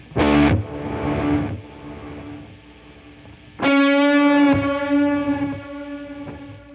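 Electric guitar through a Walrus Audio Melee pedal set to reverse reverb with delay trails: two swelling chords, each blooming into a thick, distorted wash of sustained harmonics that decays slowly into repeating echoes, played alone with no voices.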